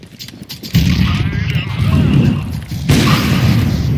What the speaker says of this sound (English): I'm throwing a flashback.